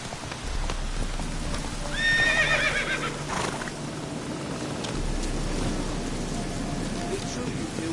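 Roach the horse from The Witcher 3 gives a whinny and then gallops with rapid clip-clopping hooves in the game, over a bed of steady rain.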